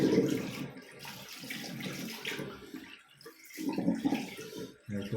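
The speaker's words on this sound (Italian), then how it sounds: "Mi sciacquo il viso, metto un po' d'acqua" Tap water running into a sink for rinsing the face at a bathroom basin, splashing and gurgling in uneven bursts with brief pauses as hands move under the stream.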